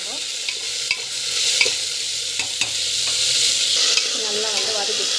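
Broad beans with onions sautéing in a pan, a steady bright sizzle with occasional scraping stirs of a spatula, close and continuous with no talking.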